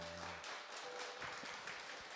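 A church congregation at a Sunday worship service claps steadily in thanks, a dense, fairly quiet wash of applause held throughout.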